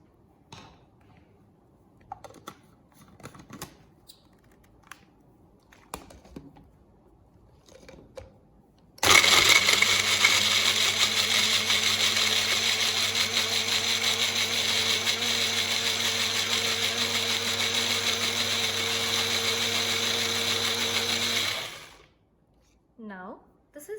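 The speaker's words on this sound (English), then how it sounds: "and let's blend it." A kitchen blender whirs as it purees soaked almonds, dates, hemp hearts and water for plant milk, starting abruptly after quiet handling clatter, holding a steady loud motor drone for about thirteen seconds, then cutting off.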